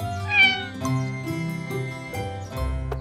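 Cartoon kitten meowing in a children's animated show about helper cars at a playground, a few clear, high, drawn-out mews over light background music.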